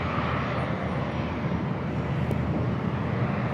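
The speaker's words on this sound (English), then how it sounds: "jets next up for takeoff" Business jet taking off at San Diego International Airport, a steady loud engine roar with broad rumble held evenly throughout, heard from nearby outdoors.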